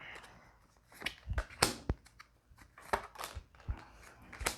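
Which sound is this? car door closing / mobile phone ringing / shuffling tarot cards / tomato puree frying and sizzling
shuffling tarot cards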